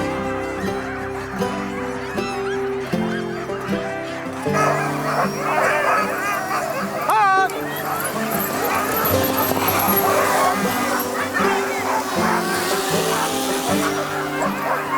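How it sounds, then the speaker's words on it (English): Sled dogs bark and yip excitedly in a continuous overlapping clamor with whimpers, fairly close, while people talk among them. "Alex and I have 8 dogs altogether."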